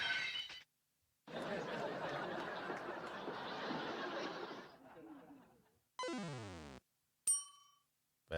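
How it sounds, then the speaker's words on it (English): Soundboard sound effects play in quick succession: a dense burst of clattering, chattering noise, then a sweeping tone and a sharp ding-like chime, each loud and separated by short silences. "Bells."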